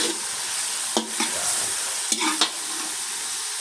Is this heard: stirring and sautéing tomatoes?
yes